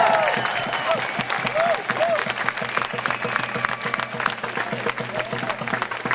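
Crowd applause at an outdoor peace march rally in Seattle, steady dense clapping lasting several seconds with a murmur of voices and some speech mixed in.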